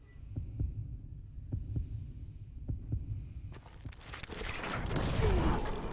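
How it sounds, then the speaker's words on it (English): A heartbeat sound effect builds tension before a gunfight duel in a Western video game, with slow, evenly paced double thumps followed by a swell of louder music and ambience. "When you hear the heartbeat, you draw your gun first"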